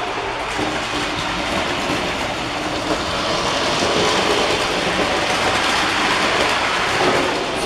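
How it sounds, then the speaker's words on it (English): Toy model trains, Spencer and Diesel, running on tracks, giving a continuous close rumbling clatter with faint clickety-clack that swells slightly toward the end, with no talking. "here we have Spencer and Diesel running on the tracks"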